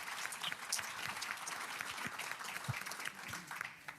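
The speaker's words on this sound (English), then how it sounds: "Give him a round of applause." A business seminar audience gives a steady round of applause, continuous dense clapping from a sizeable crowd with a few louder claps standing out, and no speech over it.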